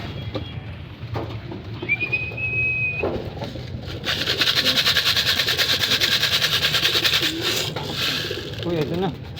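A blue bar racing pigeon back at its loft coos softly among other birds, mixed with a steady mechanical hum and bursts of nearby noise, while someone speaks in Filipino.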